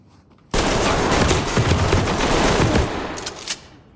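Sustained loud automatic gunfire in Black Ops 6 Hardcore Team Deathmatch, a dense continuous burst lasting about three seconds before cutting off.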